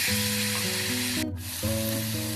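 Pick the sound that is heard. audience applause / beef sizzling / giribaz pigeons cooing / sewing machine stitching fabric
beef sizzling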